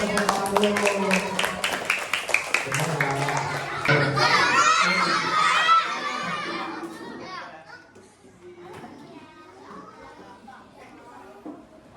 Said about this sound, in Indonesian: Ya kasih tepuk tangannya yuk.